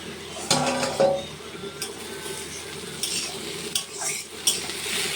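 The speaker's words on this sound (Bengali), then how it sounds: "এবার ভালো করে নাড়াচাড়া করে ঢাকা দিয়ে দেবো" Papaya pieces frying in a pan while being stirred, with a steady sizzle under brisk scraping spatula strokes and a few metallic knocks against the pan.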